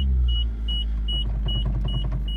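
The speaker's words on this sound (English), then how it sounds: "We'll get the car actually running." A Suzuki SX4 engine idles steadily with a low, even rumble close by, while a periodic electronic chime beeps at regular intervals above it; no talk.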